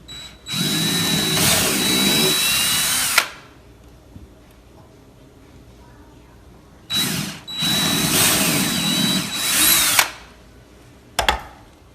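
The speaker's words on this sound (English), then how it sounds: "these 4 holes will be drilled with a 3/8 inch hole straight through" A power drill whines loudly at high speed in two long bursts, boring 3/8-inch holes straight through a door, separated by a quiet pause, with a brief final blip at the end.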